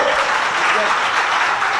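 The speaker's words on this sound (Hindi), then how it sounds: "तालियां तो बजाई लो" A crowd at a Jain religious discourse gathering claps together in a brief, dense, continuous burst that fills the whole moment without a break.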